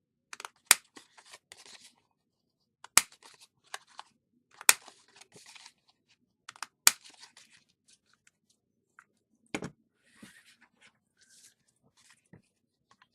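Scissors rounding off the corners of a sheet of paper, a handful of sharp, isolated snips separated by quiet pauses, close and crisp against near silence.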